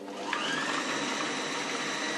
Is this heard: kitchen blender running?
yes